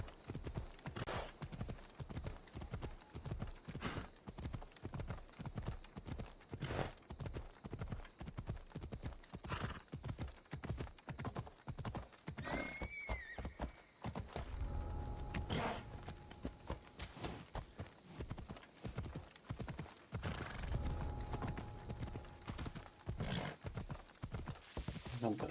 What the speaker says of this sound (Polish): No, biegnij szybciej tym koniem.